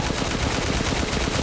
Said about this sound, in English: this assault rifle is strong